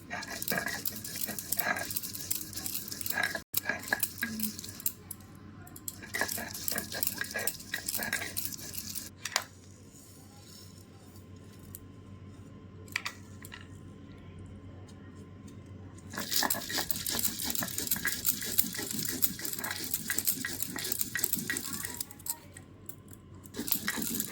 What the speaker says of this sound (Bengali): আদা বাটা হয়ে গেছে এবং সর্ষেটা বাটছে।